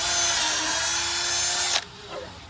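A power drill drilling into wood whines steadily and loudly for nearly two seconds, then cuts off abruptly, leaving a quieter spin-down and faint room noise.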